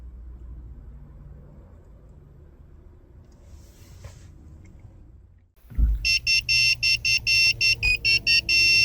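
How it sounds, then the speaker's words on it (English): A key programming tool plugged into a 2007-2012 Lincoln MKZ emits a rapid series of loud, evenly spaced electronic beeps, about a dozen in quick succession after a quiet stretch of low cabin hum. "After 10 minutes, you'll hear a beeping tone, which means that the key chip programming was successful."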